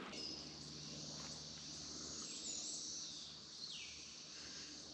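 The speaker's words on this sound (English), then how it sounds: "Cicadas." Cicadas buzz in a continuous high drone on an evening forest hike, fairly faint and distant, with a few birds chirping now and then in the background.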